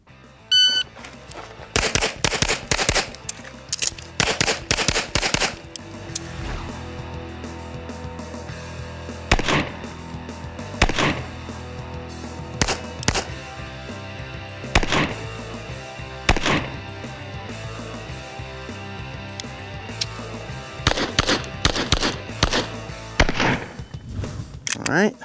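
Rapid pistol shots ring out in an El Presidente shooting drill, sharp loud cracks coming in quick bursts of several with short gaps between strings over about 25 seconds.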